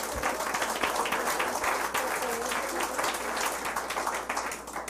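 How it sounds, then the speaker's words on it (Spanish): Applause from a church congregation fills the space, a dense steady patter of many hands clapping for the length of the clip, with low murmurs underneath. "Den un aplauso al Señor Jesús."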